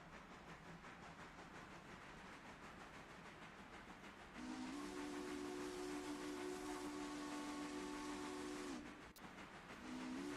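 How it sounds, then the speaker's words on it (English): A steam passenger train in the railroad game Railroader pulls out of a station, its steam whistle sounding in a long sustained blast over steady hiss and rumble, then a brief second toot at the end. "Passenger train is leaving Whittier."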